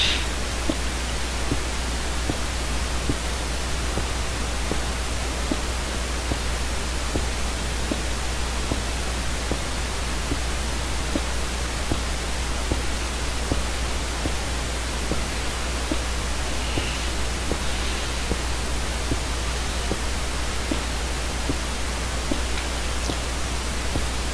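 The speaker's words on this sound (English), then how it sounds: "You get away from that nether portal because of how loud it is." A Minecraft nether portal's steady, dense hiss-like drone fills the space, with a low hum underneath and faint crackles, continuous and unchanging.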